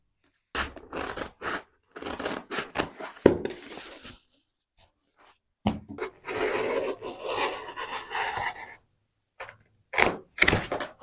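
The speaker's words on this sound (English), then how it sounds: "So I need to cut each piece out and then we can start pasting the wall." Wallpaper mural pieces are cut out, giving rough rasping, sliding cuts and crisp paper rustles in several bursts separated by short pauses, close and loud with no talk.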